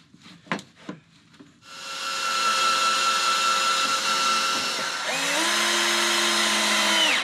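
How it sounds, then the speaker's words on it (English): A power drill drives 2-inch screws through a cabinet floor into the plywood subfloor of a 2024 Ford Transit 250 camper van. A few knocks come first, then a loud, close, sustained whine that shifts pitch partway through as the screw sinks. "some 2-inch screws through the floor of the cabinet into my plywood subfloor"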